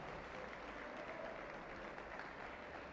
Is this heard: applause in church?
yes